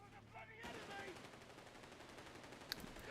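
An MG34 machine gun in the Company of Heroes 3 video game fires a quiet, dense rattle that starts abruptly and carries on to the end, with one sharp crack near the close.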